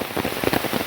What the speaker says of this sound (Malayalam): അന്യായ മഴ, എണ്ണപ്പരത്തോട്ടങ്ങളെ മൊത്തം നനച്ച് പൂളിച്ച് ആകെ വെള്ളത്തിലാക്കിയുള്ള മഴ.